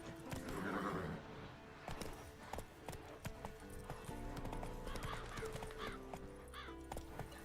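Horse in The Witcher 3 game, clip-clopping hooves in a steady rhythm with a whinny and neigh early on, plus scattered game effects, fairly loud and close.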